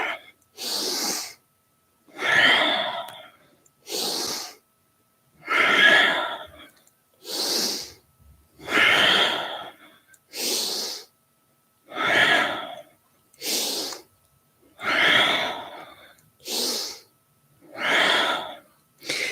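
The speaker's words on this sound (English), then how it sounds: "Continue with the rhythm of your breath." Rhythmic forceful breathing during a Kundalini yoga kriya, about a dozen strong breath bursts at a steady pace of roughly one every one and a half seconds, close and loud with short gaps and no talking.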